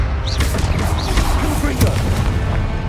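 Fiery Confringo spell blasts in the Hogwarts Legacy video game, several sharp booming bursts over a dense, continuous bed of battle noise and effects.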